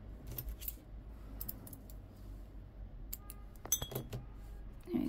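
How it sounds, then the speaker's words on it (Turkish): Scissors snip through crochet yarn while a round crossbody bag made from two motifs is finished, giving a few short, quiet metallic clicks and snips close by over low room noise. "İpimi keseceğim."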